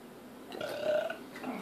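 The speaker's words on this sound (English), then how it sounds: "That's a gin burp." A drawn-out burp after sipping a gin drink mixed with egg, close and fairly loud. It rises into a throaty rumble and trails off with a small second gurgle.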